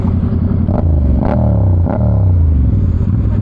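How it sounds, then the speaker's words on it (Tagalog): A loud Honda CB650R E-Clutch motorcycle engine revs up and down repeatedly, close by, its pitch rising and falling in short surges over a rumbling idle. "Ang ingay ng motor mo."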